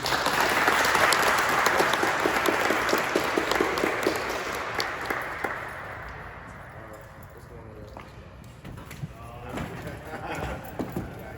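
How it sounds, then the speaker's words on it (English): Audience applause for KJ McCou at a Hunters Lane athletes gathering with TSU football, loud dense clapping at the start that fades over several seconds into scattered claps and crowd talk. "All right, so y'all give me KJ a round of applause, please."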